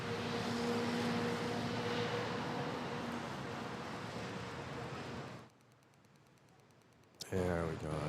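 A China Airlines airliner taxis toward runway 24 at Manila airport, its steady jet engine whine and broadband roar continuous for several seconds before dropping off, then returning briefly at the end.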